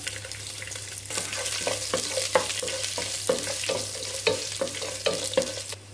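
Halved garlic cloves sizzle steadily in a hot pan while a utensil scrapes and stirs with repeated clicking strokes, close and fairly loud.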